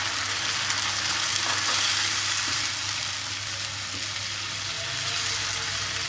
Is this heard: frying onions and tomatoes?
yes